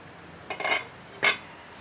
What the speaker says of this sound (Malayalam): ഞാൻ അടുപ്പ് കത്തിച്ച് ഒരു പാത്രം അടുപ്പിലോട്ട് വെച്ചു.